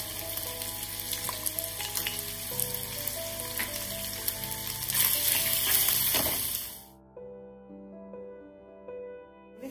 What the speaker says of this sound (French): Les crevettes aussi, il a fallu juste 5 minutes de cuisson.